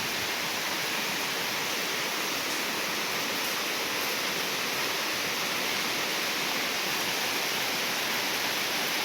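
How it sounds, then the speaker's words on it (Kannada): Heavy rain pours down in a steady, dense roar, unbroken and fairly loud throughout with no voices. "ತುಂಬ ಜೋರಾಗಿ ಮಳೆ ಬರ್ತಾ ಇದೆ."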